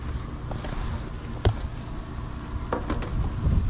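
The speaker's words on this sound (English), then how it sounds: "I add a little bit of oil right here in the center, and we are going to dump our potatoes" Potatoes dumped onto a little oil on a Blackstone griddle sizzle steadily and moderately loud, with a few scraping clicks from a utensil on the metal.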